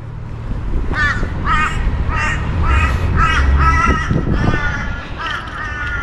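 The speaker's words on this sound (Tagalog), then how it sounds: "May uwak doon sa linya na kuryente." A crow perched on a power line in Australia caws about ten times in a steady, rhythmic series, loud and nearby, over a constant low outdoor rumble.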